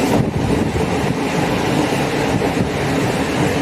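MRTS suburban train running on Deepavali day, heard from inside: a loud, steady rumble and roar of wheels on rail with faint rhythmic clatter, continuous throughout with no voices.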